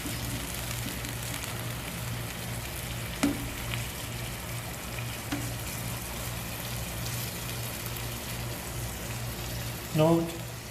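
Vegetable rice stir-frying in a pan over a medium flame, a steady broad sizzle with a low hum beneath and a couple of brief scraping knocks as it is mixed, the loudest clatter near the end.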